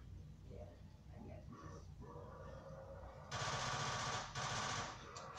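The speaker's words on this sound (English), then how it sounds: "Yo, I love the sound of this gun. It sounds so sick." Gunfire from a gun in a video game, the Black Ops 2 era weapon, bursts in loud rapid fire over a steady bed of game noise, with a voice talking in the background.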